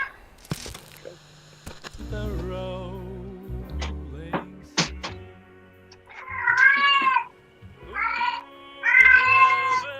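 A cat meowing indoors, several drawn-out, rising and falling meows in separate bursts toward the end, loud and close, after scattered clicks and shuffling sounds.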